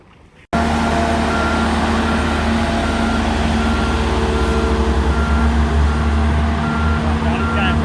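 A truck reverses slowly into cradles under a spotter's guidance, its engine rumbling loudly and close after a sudden start, with steady reversing beeps repeating throughout.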